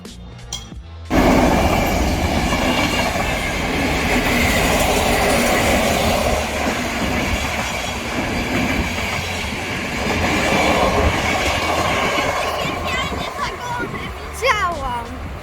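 A train pulling sleeper cars passes close by with a loud, steady rumbling roar and rhythmic wheel clatter that lasts throughout, ending with a faint metallic squeal of wheels.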